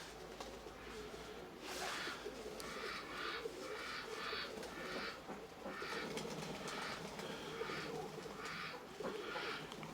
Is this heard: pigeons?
yes